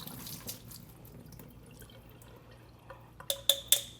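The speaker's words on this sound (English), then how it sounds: "I'm going to add our olives, and I need to drain the brine off those." Olive brine drains from a jar, first a quiet trickle and then a few sharp glassy clinks and splashes near the end, close and fairly faint.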